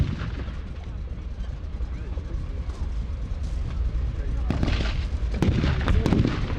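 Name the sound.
tank gunfire in a battle reenactment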